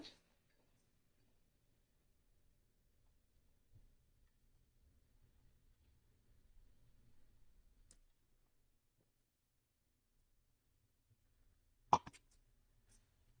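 Thick green pea paste drops into a pan of sautéed onion for rava idli, giving one soft, wet plop near the end of a long, nearly silent stretch with faint low background rumble.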